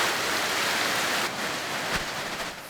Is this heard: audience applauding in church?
no